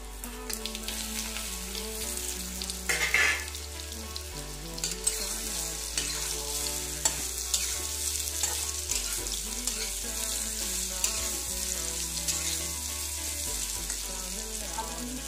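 Arbi (taro) leaf pakoras fry in hot oil with ajwain, a continuous bubbling sizzle under melodic background music, with occasional clinks and a louder burst of spattering early on.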